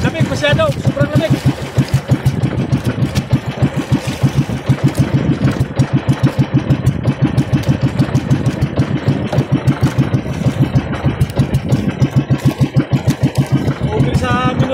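A fishing boat's engine thumps in a steady, rapid pulse during heavy, cold rain, loud and close throughout, with a voice speaking over it.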